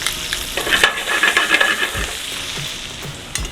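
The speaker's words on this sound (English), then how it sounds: "I'm gonna saute this together" Spinach and butternut squash sautéing together in a pan, a steady close sizzle with spatula scrapes and stirring clatter, no talking.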